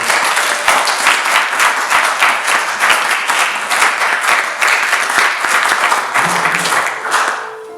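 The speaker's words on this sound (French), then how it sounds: "Ça, c'était un applaudissement pour un homme," A church congregation bursts into loud, dense applause, many hands clapping in a continuous roar that holds steady for several seconds before tapering off at the close.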